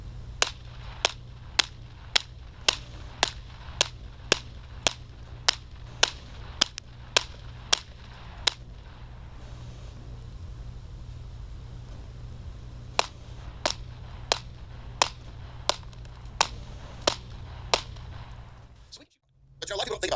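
A long string of sharp gunshots from 9mm and .40 S&W handguns fired at cinder block targets from 15 yards, heard at a distance over a steady low rumble, with a brief lull between the two strings.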